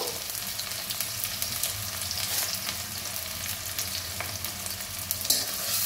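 A large onion fries in a pan and gets stirred, giving a steady, moderate sizzle broken by occasional scrapes and light knocks of the spoon, with no speech.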